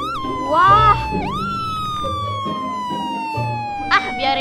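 Ambulance siren at dusk on a residential street, a short warble followed by one long, slowly falling tone, loud and near.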